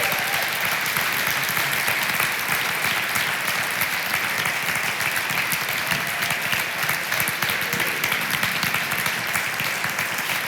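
Dense, steady applause from an audience fills the hall for over ten seconds as kids bring food boxes up the aisle, loud and continuous with no break.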